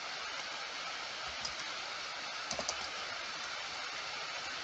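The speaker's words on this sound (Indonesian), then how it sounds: "Hatch bisa diketik aja ya di keyboard." A computer keyboard is tapped with a few light, scattered keystrokes against a steady hiss of background noise, quiet and close, with no talking.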